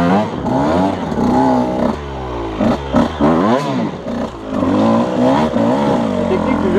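An enduro motorcycle with a full FMF exhaust climbing uphill on a forest trail, loud and close, its engine revving up and down in rising and falling sweeps with throttle blips and clattering through the whole stretch.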